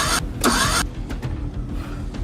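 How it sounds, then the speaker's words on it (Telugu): An auto rickshaw that won't start because a cloth has been stuffed into its exhaust silencer: two loud, close cranking bursts, then a low, uneven rumble without the engine catching. "రే మచ్చా, ఆటో ఎందుకు స్టార్ట్ అవడం లేదురా?"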